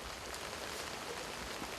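Rain falling outdoors in Sri Lanka, a faint, steady hiss of drops hitting surfaces throughout.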